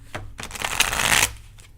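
A deck of tarot cards is shuffled by hand in one quick burst of close, crisp riffling that swells and then cuts off, with no talking over it.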